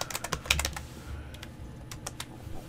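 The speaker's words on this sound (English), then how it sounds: "I'm gonna type in context dot, and I'm gonna type in" Rapid clattering of keys on a computer keyboard, close and fairly quiet, a busy burst of strokes followed by sparser taps, with no talking.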